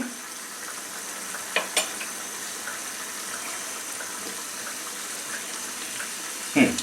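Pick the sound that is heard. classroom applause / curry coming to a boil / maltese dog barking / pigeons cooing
curry coming to a boil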